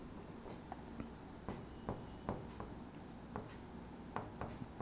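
Someone writes on a board during a physics lecture, making faint scratchy strokes at an irregular pace over a steady background hum in a quiet room.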